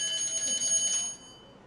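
A timer for a one-minute classroom writing exercise sounds: a bright, steady high-pitched electronic beeping that holds for about a second, then cuts off.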